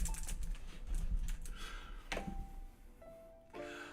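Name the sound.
slow typing on a computer keyboard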